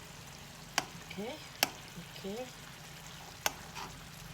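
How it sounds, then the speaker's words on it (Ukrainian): Fish stewing in a pan, giving a soft steady simmer with quiet sizzling, broken by three sharp utensil clicks and a couple of short scraping stirs. A voice speaks briefly. "даємо, хай наша рибка тушиться. Не смажиться, не вариться, а тушиться."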